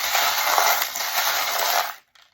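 Small metal charms tossed and shuffled for a divination reading, a dense continuous jingling rattle lasting about two seconds, then stopping abruptly into near silence with a faint trailing clink.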